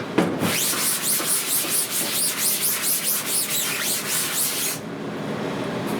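Scrubbing a screenprinting screen with a red scrubber during screen reclaiming, steady close back-and-forth strokes with a hissing, wet scrape in an even rhythm for several seconds, then stopping abruptly.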